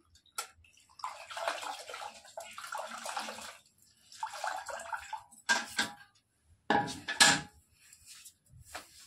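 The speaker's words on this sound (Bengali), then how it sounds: "তো চলো ভালো করে ঘরটা পরিষ্কার করে মুছে নিই।" Wet mopping of a room's floor with a bucket of water and a mop, heard as bursts of swishing, sloshing wipes with short pauses and occasional knocks, fairly close and moderately quiet.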